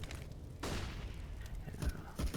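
Rapid AUG rifle fire in Counter-Strike on the Inferno map breaks in loud and dense after a quiet start, continuing as a sustained burst with a little faint talk underneath.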